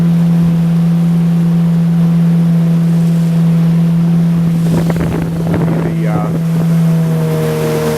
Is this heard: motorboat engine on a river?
yes